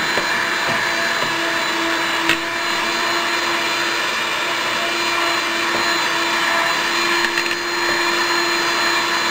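Handheld electric mixer whipping egg whites into meringue, a loud, steady motor whine with a constant pitch that runs unbroken and close throughout, with no talk over it.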